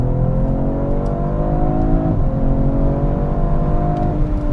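Alpina B3 Touring estate car accelerating hard, its engine note climbing steadily through rising harmonics with a brief dip at a gear change midway, loud and close throughout with no talk.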